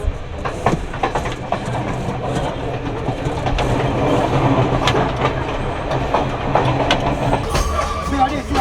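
A train rumbles steadily along the rails between Kandy and Ella in Sri Lanka, with rhythmic clicks and clatter, loud and close, as if heard from inside a carriage, with faint voices mixed in.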